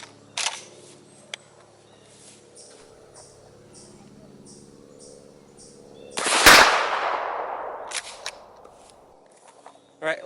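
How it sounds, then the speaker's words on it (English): A shotgun loaded with double-aught buckshot and fitted with a choke fires one loud, sharp blast at close range, followed by a decaying echo; faint handling clicks come before it. "Let's take our first shot with the double-aught buck with a choke."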